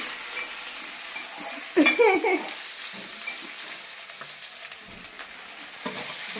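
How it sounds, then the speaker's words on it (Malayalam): Crushed mustard seeds, green chilli, curry leaves and ginger fry in hot oil with a steady sizzle and stirring, flaring into a louder crackling burst briefly before settling back to a low hiss with occasional scrapes. "നമ്മളിത് ഇട്ട് കടുക് പച്ചമുളകും വേപ്പിലയും ഇഞ്ചിയൊക്കെ കൂടി ചതച്ചിട്ട് ചേർത്തിട്ട് ഇതിട്"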